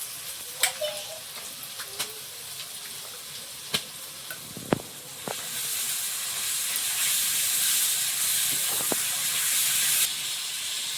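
Ginger and garlic paste sizzles steadily in a hot pan while cooking chicken curry, a broad hiss that swells after a few scattered clinks and utensil knocks and then holds loud and continuous to the end.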